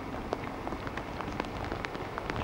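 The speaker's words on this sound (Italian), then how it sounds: "cioè veramente sta piovendo un casino." Heavy rain pours outdoors during a storm in Cinisello Balsamo, a dense steady hiss of falling water with scattered sharper drops striking nearby surfaces, continuous and fairly loud throughout.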